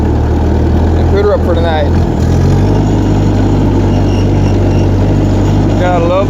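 An old, cheaply refurbished tractor engine runs loud and steady with a low rattling drone at night, continuous throughout, while someone talks over it in a couple of short bursts.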